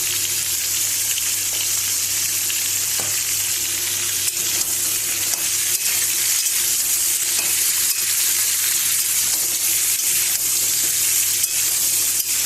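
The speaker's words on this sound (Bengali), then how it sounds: "সবজিগুলো আমার সব ভাজা হয়ে গেছে" Mixed vegetables fry in a pan, giving a constant, close hissing sizzle with faint stirring scrapes and no voices throughout.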